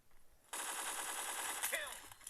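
A sustained burst of rifle fire in the video game PUBG starts abruptly after a quiet moment, runs as a fast rattling string for about a second, then cuts off, fairly faint overall.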